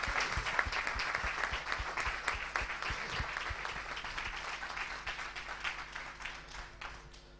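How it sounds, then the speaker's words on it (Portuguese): Congregation applauding in a church service, rapid overlapping hand claps, fairly distant and steady, gradually softening toward the end. "Uma salva de palmas para Jesus."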